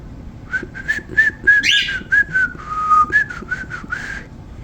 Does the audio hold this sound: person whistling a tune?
yes